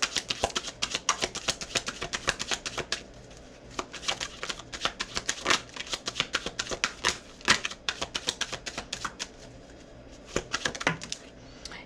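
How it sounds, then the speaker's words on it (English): Tarot cards being shuffled by hand at close range, with bursts of crisp riffling and flapping snaps separated by brief pauses, repeating across the stretch with no talking. "And then I'm going to do another shuffle."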